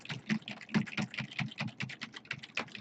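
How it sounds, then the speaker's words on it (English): Rapid, steady keystrokes on a computer keyboard produce a dense run of close clicks and taps with no speech. "begin to type your document out"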